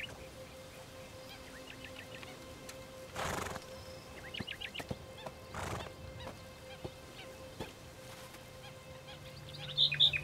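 Free-roaming Camargue horses, among them a mare with her newborn foal, give several high whinnies and neighs amid soft hoof clopping, with honking birds and an open outdoor ambience in the background.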